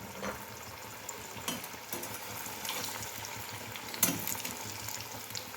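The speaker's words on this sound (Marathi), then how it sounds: "तर या तेलामध्ये हे वडे सोडून घेऊया." Fasting-day vadas slipped into hot oil and frying with a steady, faint sizzle, with a brief louder crackle near the end and no talking.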